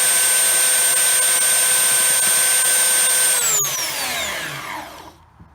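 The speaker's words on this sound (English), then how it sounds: "you're just going to let it spin across the belt sander" A 3x3 puzzle cube spins against a running belt sander while being shaped into a barrel, giving a loud steady whine with tonal hum that winds down and fades near the end.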